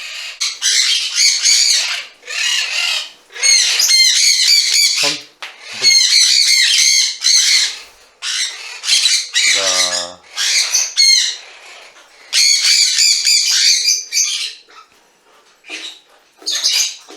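Harsh, shrill squawks from two conure parrots in repeated bursts, loud and close, with brief pauses between calls and a low voice briefly mixed in.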